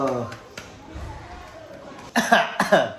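A person coughs twice near the end, loud and close, after a stretch of quiet room noise and a few faint clicks.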